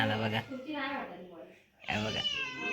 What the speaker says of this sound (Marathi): दुसरा मांजर पण आला बघा.